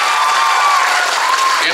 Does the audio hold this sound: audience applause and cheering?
yes